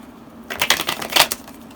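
Tarot cards are drawn and shuffled from a deck at close range, a quick run of crisp papery riffles and flicks after a brief quiet start, with no voices.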